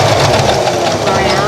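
A sewing machine runs a regular stitch along a fabric face mask with a fast, rattling mechanical whir. A voice is heard over the stitching.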